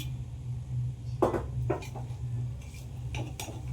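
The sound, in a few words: lid taken off a pot of chicken biryani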